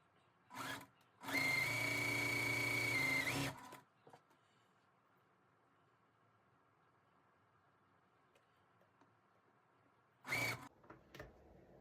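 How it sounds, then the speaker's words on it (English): A sewing machine stitching a pinwheel star quilt block: a few quiet clicks, then a steady whirring run of about two seconds, a long near-silent pause, and a short final burst of stitching. "I'm going to sew this block up."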